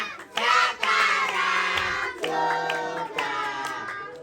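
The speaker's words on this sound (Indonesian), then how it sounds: "Tepuk tangan" Guests clap at a ten-year-old's birthday party where a clown is performing. Bursts of clapping come in waves alongside children's voices and sung tones, loud and close throughout.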